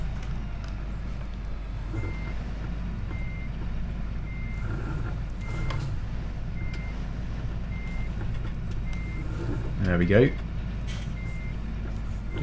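A truck in Farming Simulator 17 reverses with a steady, evenly spaced series of backup beeps over a constant engine drone, with a brief voice speaking near the end.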